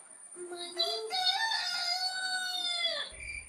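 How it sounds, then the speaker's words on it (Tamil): A rooster crows once, a loud, close, drawn-out cock-a-doodle-doo lasting about three seconds. "கோழி"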